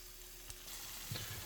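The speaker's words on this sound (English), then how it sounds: "The onions, the seasoning, all that flavor just simmering up" Quiet, steady sizzling of onions and seasoning frying in a pan, with a faint crackle and a soft clink near the end.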